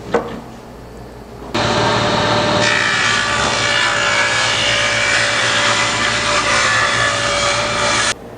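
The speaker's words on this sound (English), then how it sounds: "Let's cut the boards and see if we can make this thing sing." Power saw slicing wooden boards for plantation picket fence shutters: a motor spins up and then a loud, steady cutting roar continues for about six seconds before stopping, close up, with no speech.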